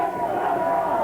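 Steady roar of a wrestling arena crowd cheering for a hometown wrestler, loud and continuous with no letup, with a commentator's voice running over it.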